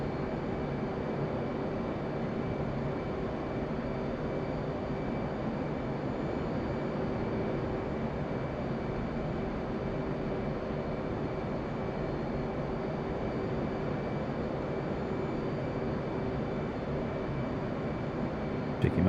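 A helicopter hovers in the DCS World flight game, its engine and rotor making an unbroken, even drone from start to finish.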